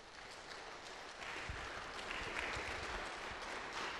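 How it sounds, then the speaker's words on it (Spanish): A church congregation claps together during a service, a steady wash of many hands that grows a little louder after the first second and keeps going without a break. "¿Alguien le puede dar palmas a Jesús, Andy?"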